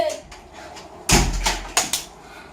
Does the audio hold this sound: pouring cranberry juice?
no